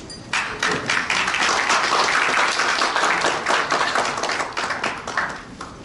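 Audience applause at a forum on the future of manufacturing as two speakers are introduced, a lively burst of many hands clapping that starts abruptly and continues steadily for several seconds.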